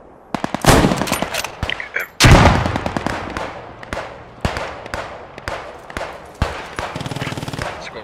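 Gunfire in the World War II video game Post Scriptum during street fighting at Arnhem: loud, close bursts of automatic fire followed by a rapid run of single shots and sharp cracks, with a steady stutter of fire near the end.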